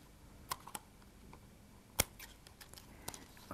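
Scissors cutting card for a twisty pop-up card, giving a few faint, scattered snips and ticks at close range, with one sharper click standing out in an otherwise quiet room.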